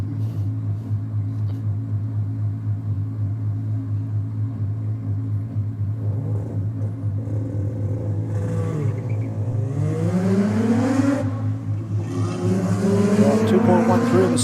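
A manually shifted Mazda FD RX-7 drag car at Sydney Dragway idles with a deep steady rotary drone, then launches with rising high-revving engine sweeps and gear changes, loud and close.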